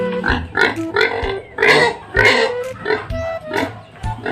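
Piglets in a clean pig pen give short, repeated grunts and squeals in quick bursts, close and loud, with no talk over them.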